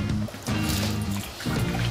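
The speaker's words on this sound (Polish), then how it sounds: "I zalewamy pół litra wody." Half a litre of water poured into a cooking pan, two short bursts of splashing and trickling close by with a brief pause between them.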